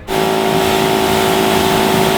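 A close car engine holds a steady hum with a constant tonal drone as the car drives into a garage, starting abruptly and running evenly for a couple of seconds.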